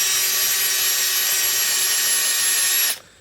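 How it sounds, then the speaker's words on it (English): Steady, loud high-pitched whirring and scrubbing of a power drill with a wire brush grinding against rusty metal on a John Deere 757 zero-turn mower deck, cutting off abruptly near the end. "what I've got here is a brush on the end of my drill"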